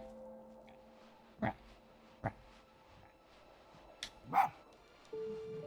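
Fox barking in the video game Spirit of the North, a few short sharp yaps spaced apart over quiet game ambience with a faint tone, fairly close and moderately loud.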